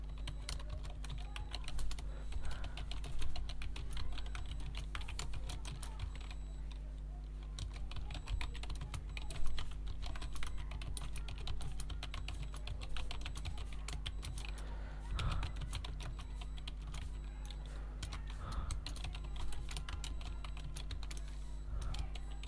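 Hindi text is typed on a computer keyboard in a fast, continuous stream of close, crisp key clicks that runs steadily throughout.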